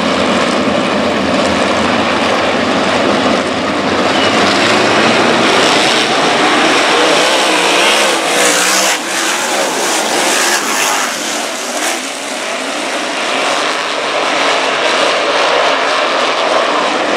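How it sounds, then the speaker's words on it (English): A loud, roaring USAC sprint car engine fills the scene during a feature race at Prescott Valley Speedway, swelling as it passes close by and then easing slightly, with no talk. "Your USAC sprint car coming your way."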